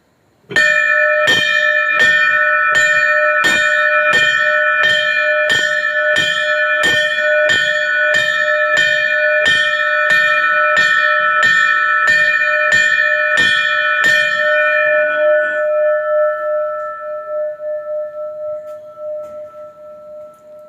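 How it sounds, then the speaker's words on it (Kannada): A temple bell rings out in a steady, even rhythm, twenty-one loud metallic strikes, then the final tone rings on and fades slowly. "ಇಪ್ಪತ್ತೊಂದು ಬಾರಿ ಗಂಟಾನಾದ"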